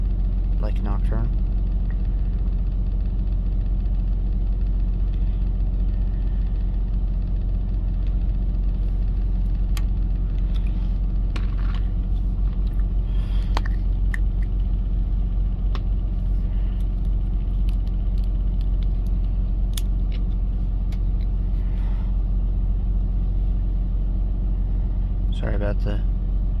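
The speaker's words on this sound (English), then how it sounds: "hum of my engine in the background." A parked car's engine idles in freezing weather, a low, steady hum running underneath a person talking the whole time.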